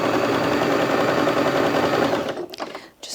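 A Bernette B35 sewing machine runs a fast, steady stitching whir up close, then slows and stops with a few mechanical clunks near the end.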